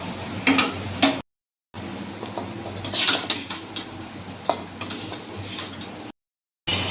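Fried jackfruit is lifted out of a wok with a metal utensil, giving light clinks and scraping taps against the pan over a faint background hiss, with two short silent gaps.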